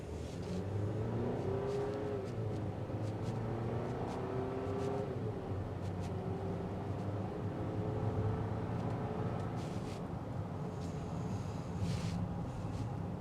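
A 2026 Buick Enclave Avenir SUV accelerates in sport mode, its engine note climbing steadily in pitch through gear changes, heard from inside the cabin as a muffled, continuous drone with no talking.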